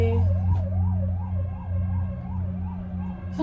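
An ambulance siren wails in a steady, regular up-and-down sweep over low engine rumble, fairly close and loud, heading toward a house fire near Trebević mountain above Sarajevo.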